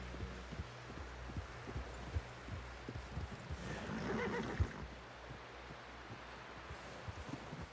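A horse whinnies in the middle of a noisy scene in the video game Red Dead Redemption 2, with steady low thumping and hoofbeat-like knocks running throughout.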